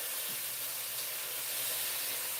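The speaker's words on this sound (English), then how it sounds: "I'm going to go ahead and put the tuna over here in this butter." Tuna sizzling in butter in a hot pan, a steady soft hiss of frying that holds evenly throughout, close and moderately loud with no talking.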